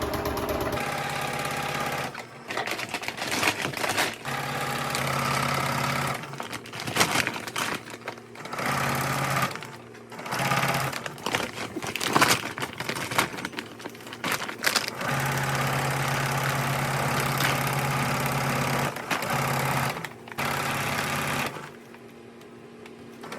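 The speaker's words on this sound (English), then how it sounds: "I'll sew a seam on the bottom here." A sewing machine runs in long steady bursts, whirring and clattering as it stitches a seam along the bottom of a feed bag, stopping briefly several times before starting again, close and without talk.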